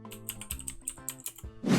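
Rapid typing on a computer keyboard, a close run of crisp key clicks in an uneven burst, ending with a louder clack, with no talking.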